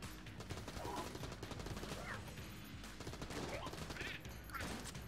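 Shots from a gun in Enter the Gungeon fire in a fairly steady, rapid stream under game effects and small chirps, at moderate loudness throughout.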